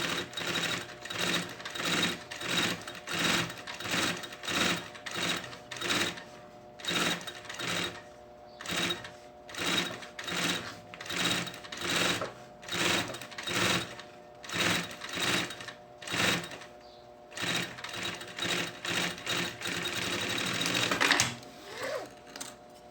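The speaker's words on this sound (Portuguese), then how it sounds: "Vou colocar direito com direito e bater um pezinho de máquina." A sewing machine stitches a 3 cm bias binding strip onto a fabric lunch bag panel in a long series of short, rhythmic whirring bursts separated by brief pauses, close and steady.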